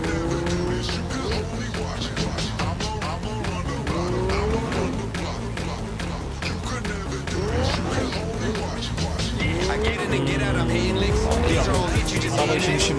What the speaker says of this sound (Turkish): Bu araç çok fena kayıyor.